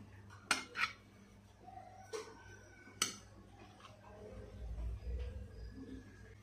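Cutlery clinks and scrapes against a plate, with a few sharp taps and a soft slide as a spoon cuts into a caramel-topped snow pudding, Portuguese Molotof, quiet and close with a low background hum.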